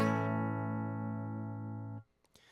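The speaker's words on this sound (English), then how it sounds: "I should be able to hear a guitar." A single sustained electric guitar note rings out steadily, then cuts off abruptly, followed by a couple of faint clicks.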